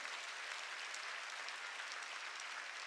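A church congregation at a Korean Sunday worship service claps together, giving a soft, continuous patter of many hands at a distance.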